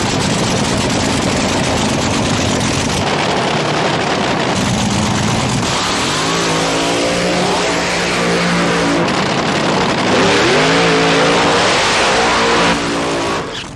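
A deafening top fuel dragster engine, about 7,000 horsepower, roars through the whole stretch at a drag raceway, with rising and falling revs and harsh, rapid pulsing, close and continuous.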